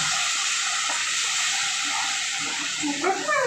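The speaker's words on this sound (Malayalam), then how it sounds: "ചൂടുവെള്ളമാണ് ഇപ്പോൾ ഒഴിച്ചത്." Hot water poured into masala frying in a pan for a vegetable curry with potato, giving a steady loud hiss throughout that swells and bubbles near the end.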